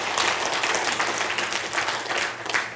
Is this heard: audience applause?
yes